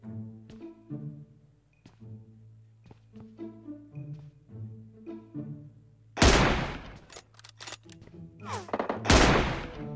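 In the first-person mode of PUBG Mobile, two loud, harsh bursts of gunfire break in about three seconds apart over a steady tonal in-game backdrop.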